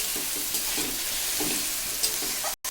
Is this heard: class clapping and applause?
no